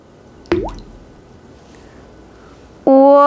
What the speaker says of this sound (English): Let's add a few drops of food coloring.